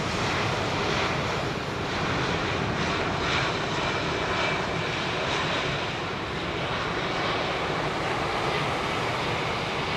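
Departing jet aircraft at London Heathrow in wet weather, a loud, continuous broadband engine roar that holds steady throughout with no voices.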